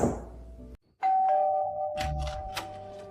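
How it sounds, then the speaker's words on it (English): A home doorbell rings with a clear electronic chime, one bright sustained tone followed by a second note, close and alone, after a brief muffled kitchen noise. "The doorbell rang."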